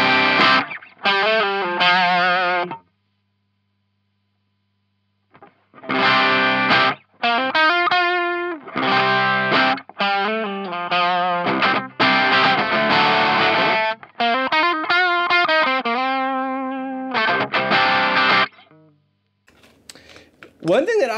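Electric guitar through an overdrive pedal, a Boss SD-1 or Ibanez TS9DX, with crunchy tone plays chords and short riffs in bursts, separated by brief silences, loud and close.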